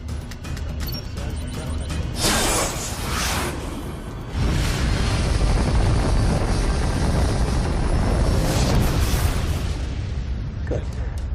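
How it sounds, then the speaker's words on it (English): Missiles launch in a TV series sound effect, a loud, sustained rushing roar with whooshing surges and a heavier blast partway through, dense and continuous throughout. "Fire the damn missiles!"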